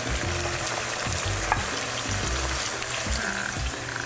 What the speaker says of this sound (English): You can tell it's like sizzling and bubbling and spitting.